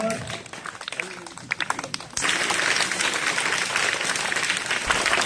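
Villagers at a farewell for a teacher burst into loud applause after a few scattered claps, the clapping swelling into a dense, even roar that continues to the end.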